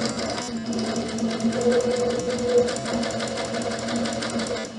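Domestic sewing machine stitching the edges of a fabric scrunchie, a steady close whirring hum with rapid needle ticking, running continuously without pause and no voice over it.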